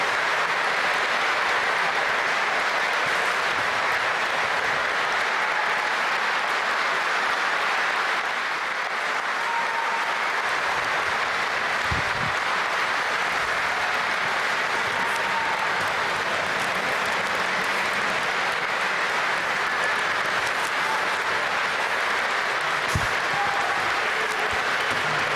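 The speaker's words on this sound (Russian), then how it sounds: "послание начинается с продолжительной овации" A large audience gives a long, sustained ovation at the opening of a presidential address to the Federal Assembly in a grand hall, a dense, even roar of clapping that stays steady throughout with no voices.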